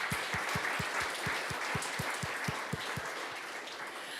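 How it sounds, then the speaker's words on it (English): Audience at the PyCon APAC 2023 keynote claps in steady, even beats, sustained and moderately loud for several seconds with no voices. "Let's give ourselves a hand of applause."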